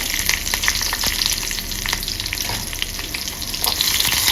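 Cumin seeds and slit green chillies crackle in hot oil for a tadka over lowered heat, a loud, dense, continuous sizzle with fine popping and no talk.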